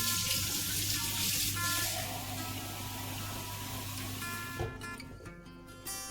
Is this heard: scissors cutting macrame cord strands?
no